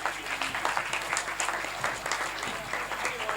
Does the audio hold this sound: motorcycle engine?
no